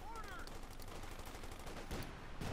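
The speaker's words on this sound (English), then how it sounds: "Puma providing covering fire from afar." Armored Puma car firing from a distance in Company of Heroes 2, a dense stretch of gunfire and battle noise running steadily through the whole stretch without a break.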